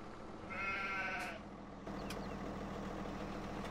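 A single sheep in Farming Simulator 17 bleats briefly, a wavering nasal call over a low steady engine-like hum.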